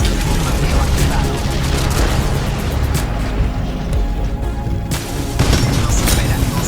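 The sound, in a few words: airstrike bombardment explosions in the video game Titanfall 2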